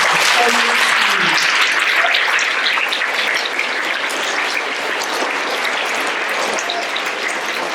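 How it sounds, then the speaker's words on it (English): Sustained, loud applause from an audience at a school's third nine weeks awards ceremony, honoring award recipients; dense clapping continues steadily from start to finish with little else above it. "A big round of applause for our friends."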